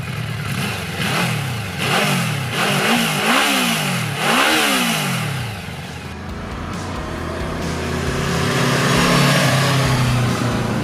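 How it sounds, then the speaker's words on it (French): A Yamaha 1700 VMAX's 1649 cc V4 engine, 200 horsepower, revs hard in repeated rising and falling bursts, loud and close, then settles into a sustained throaty roar. "Son énorme 4 cylindres en V de 1649 cm3 peut maintenant laisser parler ses 200 chevaux"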